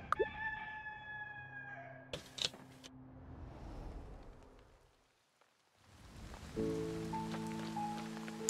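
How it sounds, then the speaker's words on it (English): Rain falls in the farming game Fae Farm as a soft steady patter, with a rooster crowing at the start and more birdsong and musical tones over the rain near the end. "Awesome, it's raining."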